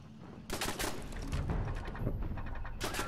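Minigun fire in Fallout 76: a dense, continuous burst of rapid automatic shots starts abruptly and rattles on loud and close, with a brief dip before the barrage resumes.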